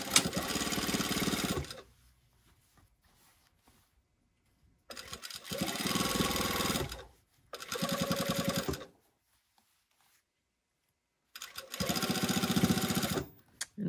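A sewing machine stitches the waistband of a pair of pants, running in four loud, steady bursts of a few seconds each, with short quiet pauses between them and no talking.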